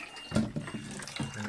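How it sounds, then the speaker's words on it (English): Tap water running in a sink over fresh salad greens, a soft steady splashing stream with a few brief louder surges, close by and with no voices. "So you just basically take them under the running water, let the water run over it,"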